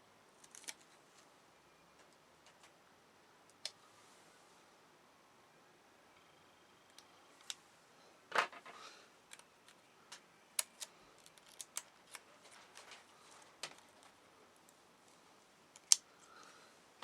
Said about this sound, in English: That's where it's going to be easier with this pair of scissors.